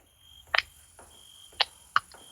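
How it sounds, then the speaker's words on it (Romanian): An alarm sounds in short sharp bursts, a few clipped beeps spread over two seconds against a steady high electronic tone, with no one talking. "Turn off the alarm."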